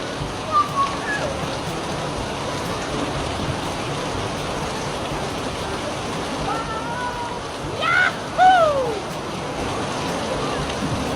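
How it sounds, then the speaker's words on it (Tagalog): Dense, steady rain patters and hisses throughout, with brief voices and a few short bursts of noise rising over the downpour. "Parang ang lakas ng ulan."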